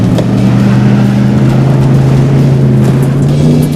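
A pickup truck engine, either a Ford Raptor or Ram Runner, drones loudly and steadily while driving, its tone wavering slightly as the revs bounce instead of holding the gear.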